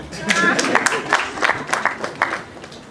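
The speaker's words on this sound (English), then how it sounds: "Clap for Paul." Audience clapping at a political talk on a referendum, a loose series of separate claps from a small crowd, moderately loud, with voices talking over it.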